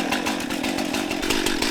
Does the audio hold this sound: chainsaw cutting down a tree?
yes